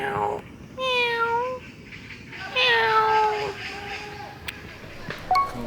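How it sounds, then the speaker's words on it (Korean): Several cats meow in a run of clear, drawn-out calls, some overlapping, close by and fairly loud outdoors in a sunlit urban spot among trees in Incheon, with a little background noise between calls. "아까 여기 고양이들이 있었는데 저 때문에 도망갔어요."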